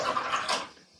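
Watercolor brush swished and rinsed in a water jar, a brief close splashing burst that fades within a second.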